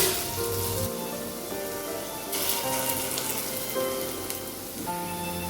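Small lentil fritters fry in hot mustard oil in a kadai over a low-to-medium flame, giving a steady close crackling sizzle with scattered pops and no voices.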